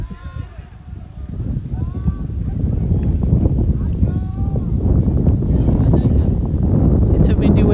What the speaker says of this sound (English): It's a windy weather out here today.